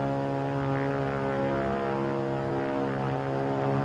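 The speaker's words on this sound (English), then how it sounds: "It's a plane, all right. But what sort of a plane? Friend or enemy? P-40 or Zero?" Propeller-driven fighter plane, a WWII P-40 or Zero, droning steadily with a deep harmonic engine hum throughout, close and constant with no voices.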